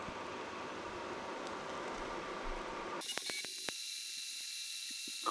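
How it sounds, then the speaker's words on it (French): Creality Ender 3 V3 KE 3D printer running its automatic bed-leveling routine: a steady broadband whir gives way to high stepper-motor whine with a few sharp clicks and taps as the head moves. "Et là, il va faire son nivellement automatique"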